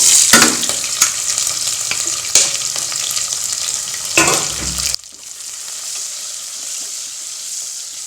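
Onions frying in a pan with cumin, pepper, star anise, cinnamon, cloves, cardamom and bay leaf give a loud, close sizzle broken by scraping stirs and clunks, then settle into a steadier, quieter hiss.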